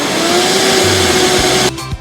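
A countertop blender whirs loudly and steadily as it purees a smoothie of orange, thawed mixed fruit and spinach, then cuts off abruptly near the end, leaving a brief low rumble.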